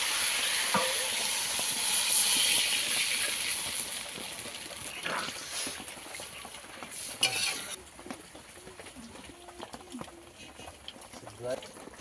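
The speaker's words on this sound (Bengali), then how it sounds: "ভালো করে মশলা কষানো হয়ে গেছে, দিয়ে দেবো জল" Water poured into a pan of fried spices and eggplant for a fish curry hisses and sizzles loudly at first, then settles into steady bubbling with scattered stirring and utensil clinks.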